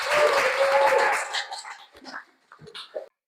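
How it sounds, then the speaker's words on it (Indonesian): A class clapping for group 1 in a classroom: a short burst of dense applause that lasts about a second, then thins out and fades into scattered quiet noises. "Kasih aplaus dulu untuk kelompok 1."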